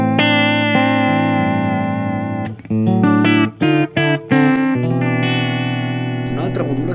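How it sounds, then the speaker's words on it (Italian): Electric guitar run through a Behringer vibrato pedal, a clone of the Boss VB-2, with sustained chords wavering in pitch and a few short breaks between strums, loud and alone. "Behringer, che è il clone perfetto del Boss VB2"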